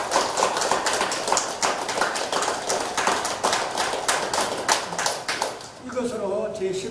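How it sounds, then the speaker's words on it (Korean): An audience at a Korean craft art exhibition opening in a gallery claps in a dense, steady burst of applause that dies away near the end, as a voice starts speaking. "이 시간을 기념하는 의미에서 모두 박수 한번 해주십시오"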